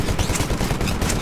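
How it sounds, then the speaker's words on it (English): An anti-Titan weapon fires in the video game Titanfall, a loud, dense burst of rapid shots packed into about a second. "Destroy the Titan with your anti-Titan weapon."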